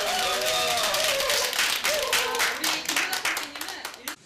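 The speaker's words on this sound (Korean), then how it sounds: "먼저 박수로 시작하겠습니다." Audience applause at a cooking class, a dense wash of many hands clapping that stays loud and steady before thinning out toward the end, with voices mixed in.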